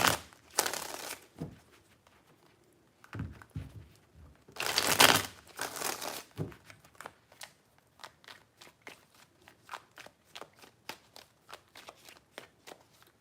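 Tarot cards are shuffled by hand in a few bursts of riffling and sliding, followed by a long run of quick, evenly spaced card flicks, close and fairly quiet.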